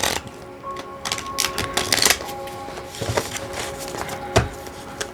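Tarot cards are shuffled and riffled in quick, irregular bursts of crisp flicks and taps, close and fairly quiet.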